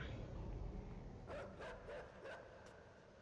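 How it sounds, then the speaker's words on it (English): Dogs bark in the video game Inside, with four or five sharp, evenly spaced barks rising over a low rumbling background, moderately close and loud, with no talking over them. "I'm gonna get chased by dogs in a second,"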